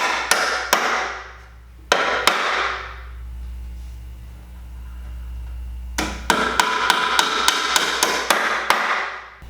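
Sharp, ringing hand-hammer blows drive nails into pallet wood, a few spaced hits, a pause, then a rapid run of repeated strikes close by.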